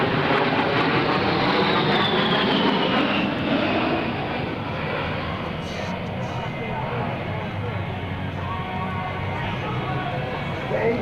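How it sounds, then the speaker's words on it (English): An A-10 Thunderbolt II with twin General Electric turbofan engines roars loudly and continuously during a vertical climb at a 2004 Joint Services Open House air show, with a steady broadband rush and a narrator talking over it. "he will fly his aircraft straight into the vertical, demonstrating the A-10's power and maneuverability at all attitudes of flight"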